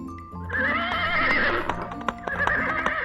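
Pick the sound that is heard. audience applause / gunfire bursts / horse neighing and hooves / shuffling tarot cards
horse neighing and hooves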